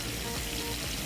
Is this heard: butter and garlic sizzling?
yes